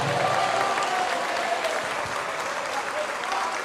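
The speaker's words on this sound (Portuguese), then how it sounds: "Vamos aplaudir mais, porque está chegando mais" A church congregation at a worship service claps steadily and fairly loudly, a dense wash of many hands with no talk over it.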